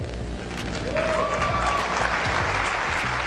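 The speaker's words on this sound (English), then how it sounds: "You can hear the crowd's excitement in the air as the iMac is revealed" Crowd at the Macworld Expo cheering and applauding as the flat-screen iMac G4 rises from the stage, a loud, dense wash of clapping and excited voices that swells and holds steady throughout.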